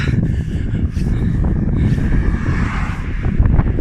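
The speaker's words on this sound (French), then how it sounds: "Ouah, ce vent." Strong wind buffets the microphone in a continuous low roar, loud and gusty throughout with no voices.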